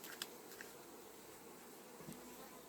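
Honey bees buzzing at an opened hive during a frame inspection while preparing the colony for winter, a faint, steady drone of many insects with occasional brief louder passes and small clicks, quiet throughout.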